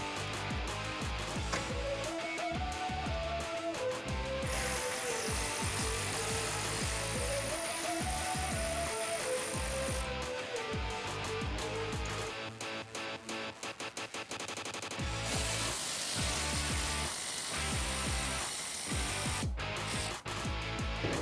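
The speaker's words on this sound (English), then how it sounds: "we can remove the two bolts that are in the middle holding our bumper onto the hitch assembly here. I'm using that same 12 millimeter socket." A 12 mm socket on a power tool removes the middle bolts holding a 2016-2021 Toyota Tacoma rear bumper to the hitch assembly, giving fairly quiet rapid rattling and whirring bursts close by.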